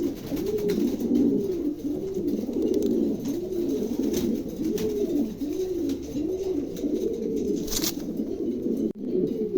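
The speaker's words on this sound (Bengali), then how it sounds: "দেখছেন কবুতরটা, দেখছেন খুবই চমৎকার।" Racing homer pigeons coo steadily in a repeating rolling rhythm, close and clear, with soft background noise and no talking.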